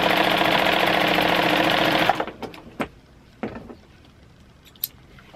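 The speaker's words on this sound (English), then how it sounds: "So this is just anything that I'm stitching on, just making like crumb pieces." Sewing machine stitching small crumb quilt pieces, a loud rapid continuous whir for about two seconds, then stopping, followed by a few scattered clicks and handling sounds.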